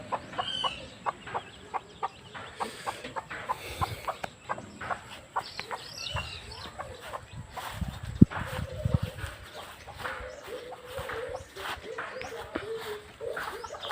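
Newly hatched chicks and hens cluck and peep near a house, with a steady stream of short calls and occasional louder clucks throughout.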